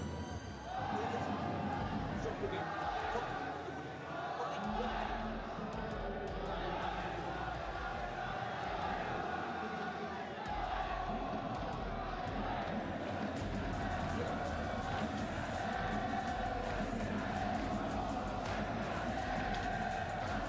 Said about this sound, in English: Crowd is lively.